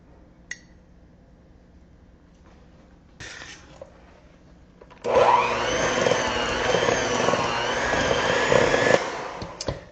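After a few faint clinks, an electric hand mixer whirs to life and beats cookie dough with vanilla extract for about four seconds, a loud, steady motor drone with slight pitch wobble, then cuts off abruptly.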